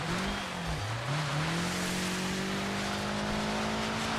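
A rally car in Dirt 5 at full throttle on an icy, snowy track, its engine droning loud and close in a sustained high rev that dips briefly then climbs and holds steady, with no talk.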